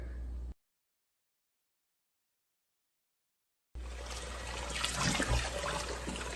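Tap water runs at a kitchen sink as raw oxtails are rinsed, a steady broadband splash that cuts out briefly and then resumes louder and fuller for the last few seconds.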